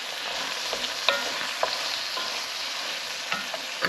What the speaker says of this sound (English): I'm going to put in the tin of tomatoes.